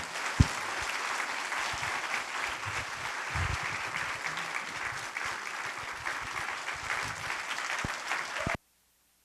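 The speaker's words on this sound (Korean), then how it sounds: "박수로 우리 목사님 힘차게 맞이했으면 좋겠습니다" A church congregation at a Sunday evening worship service claps to welcome the pastor, giving a continuous, moderately distant patter of many hands. A few sharper thumps punctuate it before it cuts off abruptly near the end.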